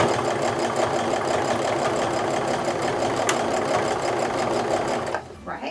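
Steady rapid mechanical stitching of a sewing machine sewing a canvas apron, running continuously and close, stopping near the end.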